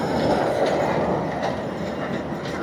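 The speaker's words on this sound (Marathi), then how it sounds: "ते ट्रेन आहे." Rumbling rolling noise of a small amusement train ride at a village fair (jatra) in Devipada, steady and fairly close, with crowd din beneath and no clear talk.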